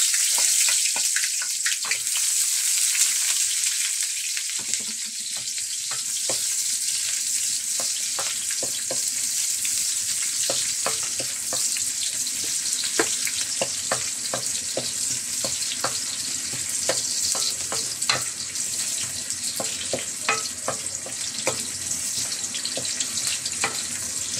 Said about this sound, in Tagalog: igigisa na natin guys. Lagay na natin yung sibuyas.